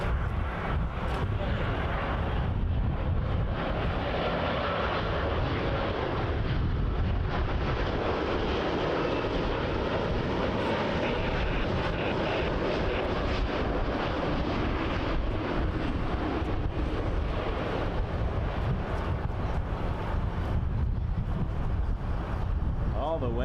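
A Saudia Boeing 787-9 Dreamliner arrives at Toronto Pearson on runway 24L, its jet roar a steady loud broadband rumble mixed with wind buffeting on the microphone throughout.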